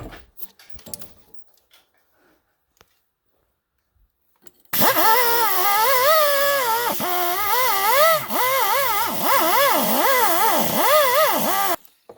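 A wire wheel on a power tool scrubs the front strut of a 2004 Cadillac CTS, starting abruptly after a quiet stretch and running loud and continuous for about seven seconds, its whine dipping and rising as it bites the metal.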